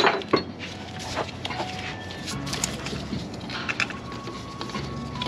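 A new thermostat with its gasket drops into the housing on a 2002 Pontiac Firebird GM 3.8L V6, making a few close metallic clinks and taps amid faint workshop clatter.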